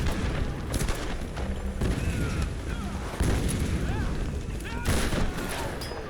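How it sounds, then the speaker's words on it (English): Shotgun blasts and heavy gunfire in the video game Tomb Raider (2013), dense repeated booms over a constant roar of combat, loud and close, with someone talking over them. "Shotgun time. Time to blast away."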